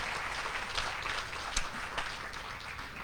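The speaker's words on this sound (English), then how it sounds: "how about a big round of applause for Sandy?" Applause at a guide dog class graduation ceremony, a moderate, steady patter of hand claps from an audience with a few brief sharper claps standing out.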